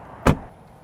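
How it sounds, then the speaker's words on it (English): A 2024 Audi A3 car door shuts with a single solid, close thud, brief and alone against quiet surroundings. "Close this door."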